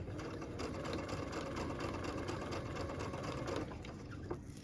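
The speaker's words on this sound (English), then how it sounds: "Just hold everything nice and straight and stitch merrily along." A sewing machine runs continuously while stitching fabric along taped seams, a loud steady rapid whir that slows and stops near the end, with no talking over it.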